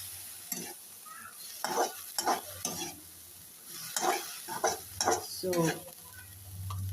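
Fennel seeds drop into hot oil as part of a panch phoron tempering, giving a soft, close sizzle with repeated stirring scrapes. A quiet voice briefly says a word.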